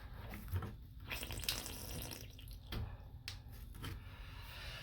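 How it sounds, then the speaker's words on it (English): Water running and splashing from a faucet into a sink during a vanity install in a commercial setting, a steady trickle with irregular spatters, close by and fairly quiet. "the water will just keep dripping out of this faucet"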